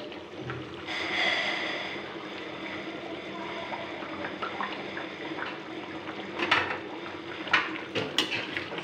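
Jackfruit curry is stirred in a pot with fresh coriander, producing soft scraping and wet squelching at close range, with a few sharper clinks of utensil on metal near the end and no talking.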